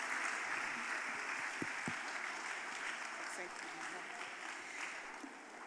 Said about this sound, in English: With a round of applause, let's invite her.